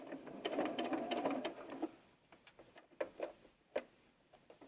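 A sewing machine runs in a steady whirring burst while stitching curves in 18-inch doll clothes fabric, then stops, leaving a string of sharp ticks and clicks from handling the fabric and machine, close and clear with no talk.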